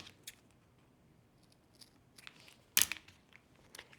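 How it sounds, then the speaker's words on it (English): Scissors trim excess duct tape, heard as a few faint, crisp snips and one sharper crunchy cut, close by in a quiet room. "Now what I'm going to do is trim this little extra off here."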